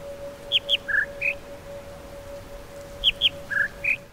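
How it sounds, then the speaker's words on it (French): Bird song from a puzzle in the video game The Witness: a short phrase of four high chirping whistles, repeated twice with a pause between, clear and isolated over a faint steady hum. "c'est encore un chant d'oiseau"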